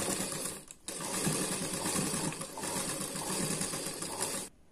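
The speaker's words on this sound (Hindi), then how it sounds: "अभी हमें दूसरे साइड को भी सिलाई लगाना है।" An electric sewing machine stitching a princess-cut blouse seam runs in a steady, close mechanical whirr, with a brief pause near the start before it resumes and then cuts off abruptly at the end.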